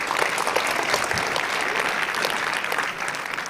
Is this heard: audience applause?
yes